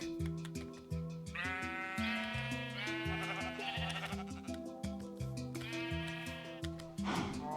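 Repeated sheep bleats in the Minecraft video game, a rapid overlapping series of nasal game-sound calls heard clearly and alone with no talk.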